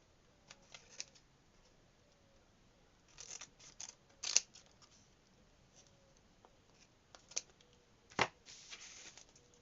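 Scissors snip paper for a junk journal page, with a handful of sharp, scattered cuts in quick clusters over a quiet background, close but fairly soft.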